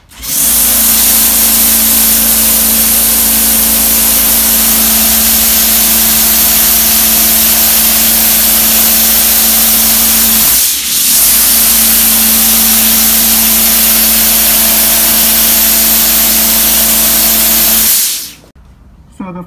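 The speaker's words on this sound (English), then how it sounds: "my sister is going to spray all over my clothing" A loud, continuous hissing spray of disinfectant from a Clorox 360 sprayer onto clothing, with a steady motor hum, running almost without pause for about eighteen seconds before stopping abruptly.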